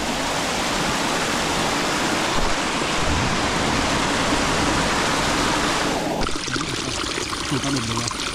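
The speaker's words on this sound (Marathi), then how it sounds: "बघा तिथे एक धबधबा आहे." Small muddy waterfall along a monsoon trek to Karnala Fort, a broad steady rush of falling water heard nearby and continuously, with a sudden shift in tone near the end.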